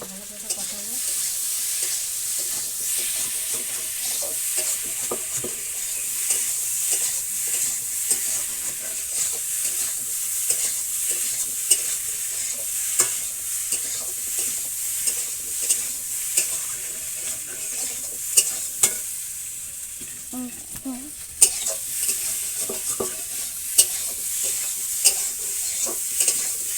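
Katla fish and taro stolons sizzle steadily in a pan in a village kitchen, with close, continuous frying hiss and frequent small scraping and stirring clicks throughout.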